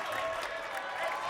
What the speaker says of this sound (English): bench loving that, applauding the defense